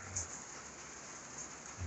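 Steady rain falling outside on a farm, an even hiss of drops with a faint low rumble, continuous and moderately close.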